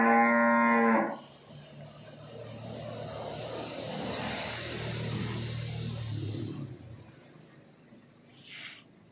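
Cattle mooing inside a cow shed: one loud, long moo at the start, then a quieter lowing call and a broad rumble of barn activity, ending with a faint short sound.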